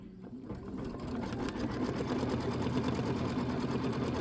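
A sewing machine stitches a tack-down line for the background of a chenille pineapple quilt block, a steady close mechanical whir with a rapid needle pulse running throughout, no voices.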